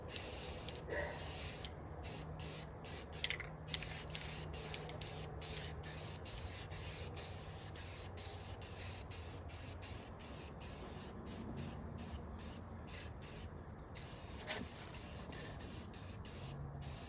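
A spray can hisses primer onto a tank in long continuous bursts with brief pauses between passes, close and steady, no talking.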